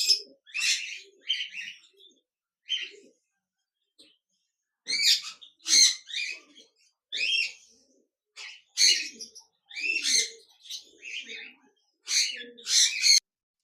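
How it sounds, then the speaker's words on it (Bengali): Caged cockatiels at a bird farm give repeated bright chirping calls in bursts with short pauses between, close and fairly clear. "এখানে দেখতে পাচ্ছেন অনেকগুলি কোকাটেল পাখি রয়েছে।"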